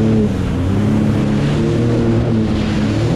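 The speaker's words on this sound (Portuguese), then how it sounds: "jet ski na água, mano." Jet ski running on the water at a beach, a steady loud engine drone with rushing water and wind noise throughout, no voices.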